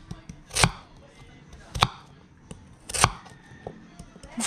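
Taro root sliced with a knife on a board while cooking outdoors, three sharp, loud chops spaced about a second apart, with softer knocks and faint background noise between them.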